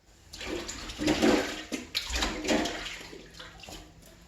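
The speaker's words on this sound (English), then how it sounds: "I'm gonna wash my hands." Running water splashes steadily as hands are washed under a kitchen tap, with hands rubbing and rinsing through the stream in uneven surges, close and moderately loud, with no talking.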